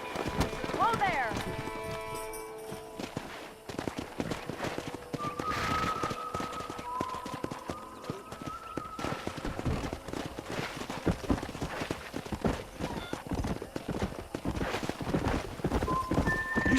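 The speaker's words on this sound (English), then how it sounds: "Let's see if we can't wrangle some horses." Horses in Red Dead Redemption gallop with rapid, continuous hoofbeats while whinnies and neighs rise over them; a voice speaks intermittently throughout, along with occasional whistling tones.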